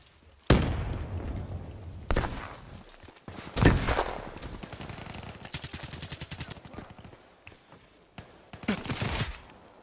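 Gunfire in the video game Call of Duty Black Ops 3: sharp single shots and rapid automatic bursts crackle loudly at irregular intervals, with heavy impacts between them.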